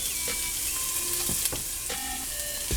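Vegetables sauté in a pan with salt, pepper and curry seasoning for an oxtail stew, giving a steady close sizzle with a few soft scraping stir strokes and no talking.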